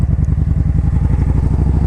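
A 2013 Kawasaki Vaquero motorcycle under way, its engine throbbing in a fast, even pulse, loud and close, with wind and road rumble behind it.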